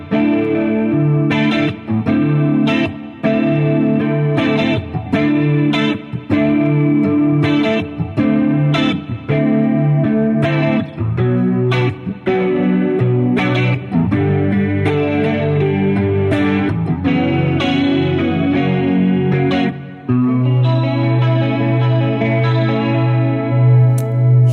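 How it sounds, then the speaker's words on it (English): Line 6 James Tyler Variax electric guitar played through a Pod AG500 into a DT50 amp, with shimmering chorus and a light delay, loud and continuous with ringing chords and sustained notes. "You heard the chorus and of course a little delay from the Pod AG500"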